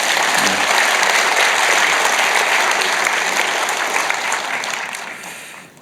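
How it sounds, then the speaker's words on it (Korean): A church congregation applauding during a worship service, steady dense clapping filling the space at full volume before tapering off toward the end, with no voices over it. "박수 한번 치주세요."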